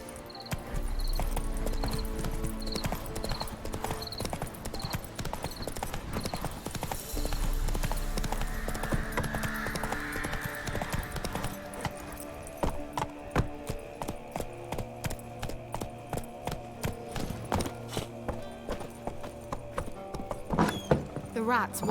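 Roach, the horse in The Witcher 3, gallops at a steady pace for a while. The hooves then fade into sparser clatter and in-game sounds, mixed under game music.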